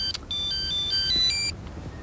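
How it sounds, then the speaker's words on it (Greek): A mobile phone ringtone chimes close by, a bright electronic melody of short repeating tones lasting about a second and a half, with no voices over it. "Μαμά, το κινητό σας."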